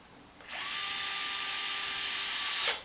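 A power tool whirs steadily for about two seconds while driving a screw into a Traxxas MAXX RC truck during pinion and spur gear work, close and alone, ending with a brief rise as it stops.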